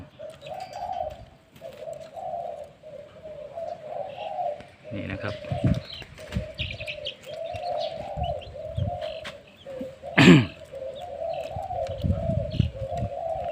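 A decoy spotted dove coos repeatedly in a steady rhythm while someone talks over it nearby, with a brief loud rustle partway through.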